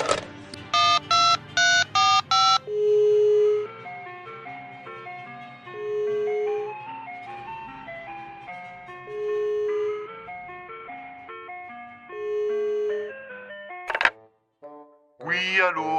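A comedic audio drama telephone effect: a rapid run of dialing tones, then several repeated electronic ringing tones with short gaps between them, ending in a brief clunk as the line picks up and a voice begins speaking.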